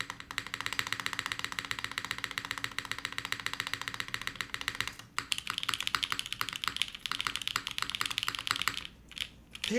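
Keys and spacebar on a Matrix mechanical keyboard pressed hard in a fast continuous stream of close clicky clacks, with a brief pause midway and near the end.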